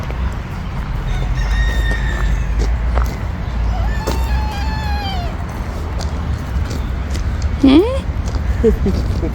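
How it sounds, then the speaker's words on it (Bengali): A rooster crows twice in a city park in Italy, a rising call around the middle and a shorter one near the end, over steady outdoor rumble with a cat-like cry and distant voices. "মুরগি ডাকে।"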